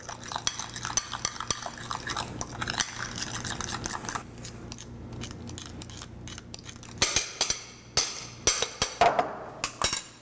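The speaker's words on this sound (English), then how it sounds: "let's take our fork or whisk and mix it all together" Fork or whisk stirring a mussel topping mixture in a bowl, with close, quick clicking and scraping strokes that grow into louder, sharper taps near the end.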